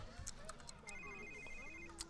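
In a life-simulation game, a phone rings with a repeating electronic tone under soft background game sounds and a voice speaking.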